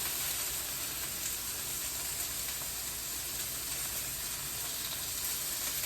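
Chicken frying in a pan gives a steady, close sizzle with fine crackling and popping, constant and fairly quiet throughout with no talking.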